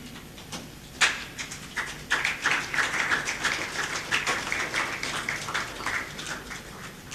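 An audience at the Print Summit 2007 breaks into applause after a presentation, many hands clapping in a dense, sustained patter that swells after a few scattered claps and continues steadily without talk.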